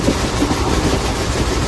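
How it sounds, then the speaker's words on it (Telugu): The 12787 Nagarsol superfast express runs at about 110 km/h, a steady close rush of rolling wheels and carriage noise throughout the brief stretch. "మన ట్రైన్ కూడా 110 కిలోమీటర్సే మ్యాక్సిమం కొట్టేస్తున్నాడు బండి."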